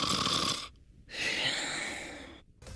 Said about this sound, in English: I hate the snoring as usual, but at least this is the exact sound I expect Sonic to make while sleeping.